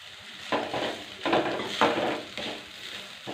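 A coconut and ginger paste fries in a pan with a steady sizzle, while a spoon stirs it in several scraping strokes, close and clear with no talking.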